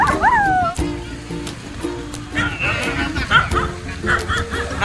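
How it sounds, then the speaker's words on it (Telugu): A puppy whimpers with a rising, squealing cry and then barks and yips several times nearby, amid background chatter from people talking in a shop. "ఓ ఇది గట్టి కుక్క"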